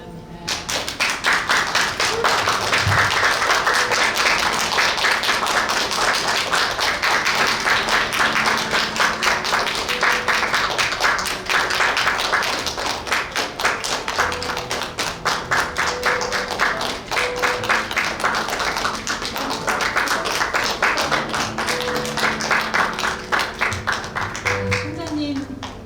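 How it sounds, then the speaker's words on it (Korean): Sustained applause fills the hall at a Korean university degree ceremony as graduates and faculty enter, with dense, loud clapping throughout and an announcer talking over parts of it. "힘찬 박수로 맞이해 주시기 바랍니다"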